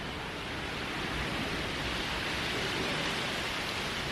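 Light drizzle falls outdoors on a grey day, a steady, even hiss of fine rain with no distinct drops or voices, constant in level throughout.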